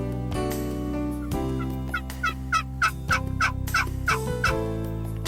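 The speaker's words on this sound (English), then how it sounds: "Let's take a look at some good gobbling action." Wild turkeys gobble repeatedly during a spring hunt, a rapid series of loud rattling gobbles in close succession, some overlapping, standing out clearly over steady low background noise.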